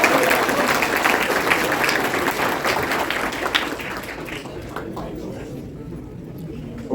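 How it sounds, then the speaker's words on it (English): A banquet crowd at a high school football end-of-season awards night claps for an award winner: dense, loud applause that slowly thins and fades toward the end. "one more time, round of applause"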